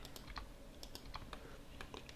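Computer keyboard keys pressed in a scattered series of light, crisp clicks at moderate level, close by, with no talking.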